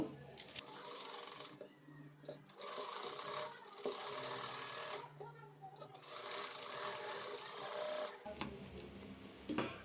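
A sewing machine stitches blouse pieces together, running in steady bursts of rapid needle chatter with short pauses between seams.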